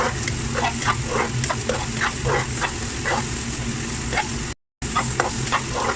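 Carrots frying in a pan for teriyaki: a constant loud sizzle close by, broken by rhythmic scrapes of a spatula stirring, with one brief dropout partway through.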